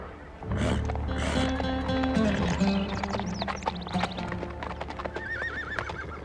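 Horses from a herd neigh loudly in two long whinnies near the start. Hooves clip-clop in an irregular rhythm close by, and further snorts and calls follow.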